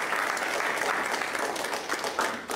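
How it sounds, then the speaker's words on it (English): Steady applause from an audience, a dense wash of clapping hands throughout with no voices on top. "Let's just give him one more round of"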